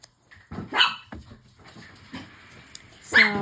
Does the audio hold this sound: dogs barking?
yes